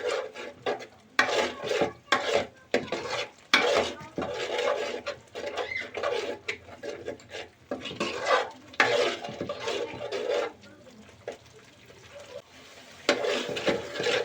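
A utensil scrapes and stirs inside a pot in quick, repeated strokes, close by, with a light sizzle between the scrapes.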